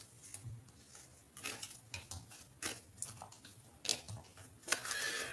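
A deck of cards is cut and shuffled by hand, producing soft, irregular clicks and riffling snaps close to the microphone, quiet and scattered with a brief flurry near the end.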